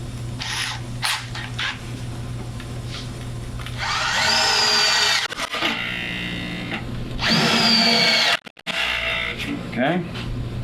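A power drill whines up loudly in two long bursts as it bores holes of about 5/16 inch, with a speaking voice and workshop noise in between.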